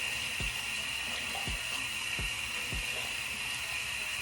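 Hot water runs steadily from a tap for a scalp wash at home, a constant hiss with a few low thumps.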